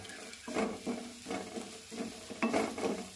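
Clams roast in a pan with turmeric and coriander powder while a spoon stirs them in a steady rhythm, giving repeated soft scraping strokes over a low sizzle, close but quiet.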